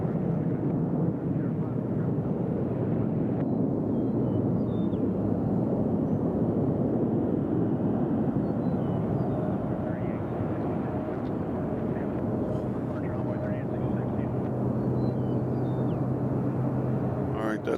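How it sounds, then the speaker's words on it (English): A Southwest Airlines jet from Midway landing at Nashville International Airport, a steady broadband engine roar that holds throughout at moderate distance, with a faint voice talking over it. "Southwest flight coming in from Midway."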